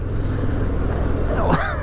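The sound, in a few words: 2022 Harley-Davidson Fat Boy motorcycle accelerating in fifth gear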